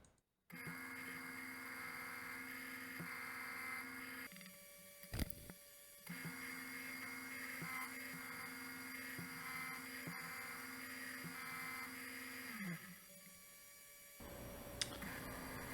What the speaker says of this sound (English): I'm starting here by squaring the side of the stock using a 4-flute end mill